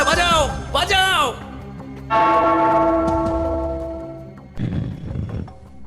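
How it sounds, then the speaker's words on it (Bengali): A bell is struck once in a cartoon comedy, ringing out with a sustained metallic tone that slowly fades, framed by animated voices before and a roar-like sound after. "ওই ঘন্টাটা বাজাও বাজাও"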